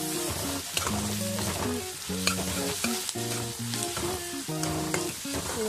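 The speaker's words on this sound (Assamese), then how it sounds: "এইখিনিও মই এতিয়া 1-2 মিনিটমান ভালকৈ ভাজি ল'ম" Ginger-garlic paste sizzles and spits in a hot pan while a utensil stirs and scrapes in short repeated strokes, no talking.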